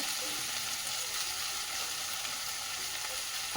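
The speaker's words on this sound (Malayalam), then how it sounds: "ഇതെല്ലാം കൂടെ നല്ലതുപോലെ ഒന്ന് ഇളക്കി യോജിപ്പിച്ച് കൊടുക്കാം" Onions cooking with mushroom masala paste sizzle steadily in a pan as the mixture is stirred, a constant close hiss throughout with a faint click near the end.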